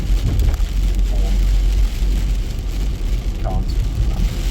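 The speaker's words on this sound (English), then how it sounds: "Just the background sound of rain helps to calm me" Steady rain falls as a continuous broadband hiss, fairly loud and even throughout, with a low rumble underneath and brief faint sounds that may be a voice.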